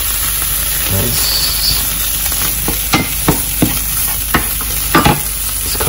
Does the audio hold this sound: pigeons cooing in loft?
no